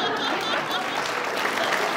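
Studio audience on the Dr Phil show clapping steadily for two seconds, a dense even wash of applause with a few faint chuckles mixed in.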